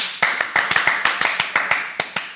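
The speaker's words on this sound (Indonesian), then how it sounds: "Tepuk, tepuk, tepuk." Hands clap in a quick, uneven series of sharp, close claps, about a dozen in a little over two seconds, from a Malaysian singing-competition audience, with no talk over them.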